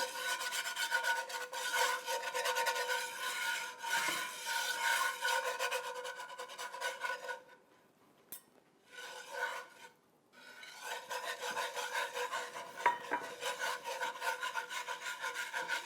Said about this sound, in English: I like to use a whisk for this so that you get the flour blended well